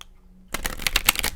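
After a brief quiet moment, a close, brisk riffle of oracle cards being shuffled, with rapid papery flicks in quick bursts.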